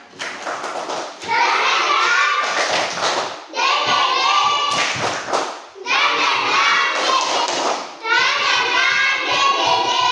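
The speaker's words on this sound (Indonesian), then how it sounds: "tepuk semangat" A group of schoolchildren in an Indonesian classroom does a rhythmic spirit clap, sounding as several loud bursts of clapping and chanting voices separated by short pauses, close and energetic.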